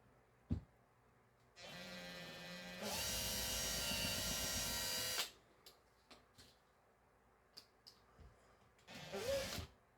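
A power drill whines for a few seconds while drilling a 1968 Hot Wheels Redline Custom Firebird toy car, then spins up faster and louder before stopping; clicks and a brief final burst follow.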